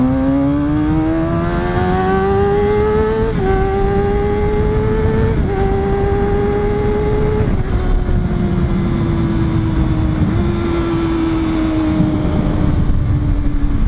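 Kawasaki Ninja 636 motorcycle engine climbing in pitch through several gear shifts, then easing off, loud and close throughout with wind rush.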